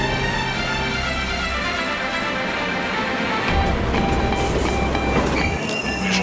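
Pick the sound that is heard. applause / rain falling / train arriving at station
train arriving at station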